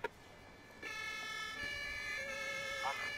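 Wailing ambulance siren from the Emergency 4 firefighting and rescue video game, a loud sustained tone that starts abruptly under engine noise, following a brief click.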